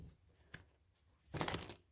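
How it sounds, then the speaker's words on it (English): Tarot cards being shuffled: a single short papery riffle burst near the end, close and fairly soft, after quiet handling noise. "I feel like we need one more good shuffle."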